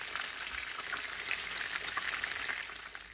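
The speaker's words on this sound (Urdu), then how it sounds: "یہ فرائی ہو گیا" Minced meat kebabs fry in hot oil, giving a steady, close hiss and crackle of sizzling throughout with small pops, quiet overall and with no one speaking.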